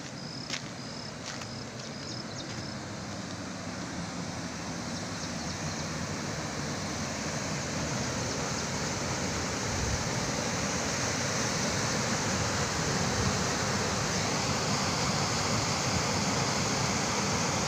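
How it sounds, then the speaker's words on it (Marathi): Fast-flowing river swollen by heavy evening rain, a dense, even roar of rushing water that holds close and loud for the whole stretch, with a few faint high chirps at the start. "खूप स्पीड आहे पाण्याला आणि पाणी नदीचंही वाढलेलं आहे"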